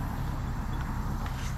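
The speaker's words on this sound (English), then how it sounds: "sorry about the traffic noise" Steady low rumble of road traffic passing nearby along a rural roadside, a continuous dense drone with no gaps, no talking.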